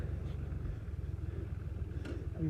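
A Chinese-made tractor engine idles steadily with a low, continuous rumble throughout, fairly close, with no talking over it.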